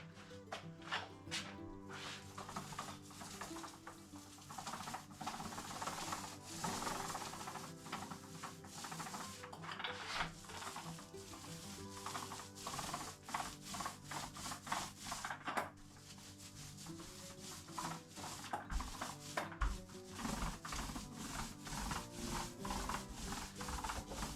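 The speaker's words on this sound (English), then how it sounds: "I've got the paint tray filled and I'm going to go at it with the roller" A paint roller rolls paint onto an interior wall with soft, continuous rubbing and sticky swishing strokes, close and fairly quiet, with no talking.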